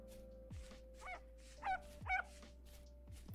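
Wolf pup in the game Vintage Story whimpering: a few short, high, yelping whines spaced across a quiet background, fairly faint, with a louder burst at the very end.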